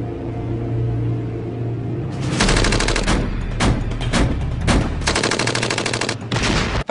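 PKM machine gun firing 7.62 mm rounds at a cinder block wall, loud sustained bursts of rapid automatic fire broken by short pauses, after a brief quiet lead-in.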